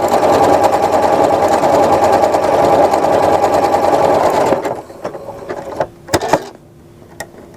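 Sewing machine running a decorative star stitch pattern on fabric, a steady loud continuous whir for about four and a half seconds, then stopping, followed by a few faint clicks and handling sounds.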